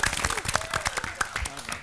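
Studio audience clapping for two contestants on a TVRI quiz show, short bursts of applause mixed with a host's voice and some bright tonal sounds.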